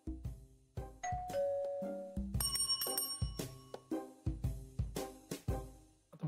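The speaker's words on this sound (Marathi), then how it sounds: "आता बेल वाजली म्हणून दार उघड सांगायला पण तू बेल वाजवणार आहेस का?" A home doorbell rings repeatedly in a sequence of bright, resonant chimes and ding-dong tones that decay between strikes, heard clearly up close with no talking.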